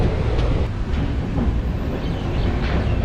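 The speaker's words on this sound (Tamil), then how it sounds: "பாலக்காடு ஸ்டேஷன்லேருந்து ட்ரெயின் இப்போ கிளம்பிடுச்சிங்க." The Chennai–Mangalore Super Fast express, train 12685, pulls out of Palakkad station at night, heard from onboard as a dense, steady rumble with faint rhythmic clatter and no voices.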